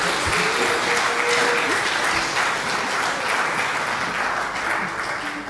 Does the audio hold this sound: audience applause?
yes